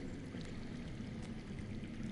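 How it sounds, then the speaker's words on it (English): Underground water flowing in the Game of Thrones video game on PS4, a steady rushing pour that sounds muffled and faint and continues without a break, with no voices. "That's water. I hear water. From underground."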